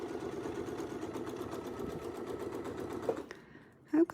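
A sewing machine stitches with Westalee ruler templates, running in a steady, fast needle rhythm for about three seconds before stopping, followed by a couple of brief handling clicks.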